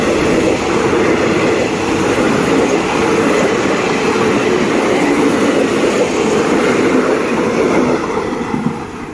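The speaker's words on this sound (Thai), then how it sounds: "ก็ใช้หัวรถจักรทำขบวนนะครับ สี่ห้าห้าเก้านะครับ" A Thai ordinary passenger train, hauled by diesel locomotive 4559 with eight cars, passes close by with a loud, continuous rumble and clatter of wheels on rails that stays steady throughout and eases only slightly at the end.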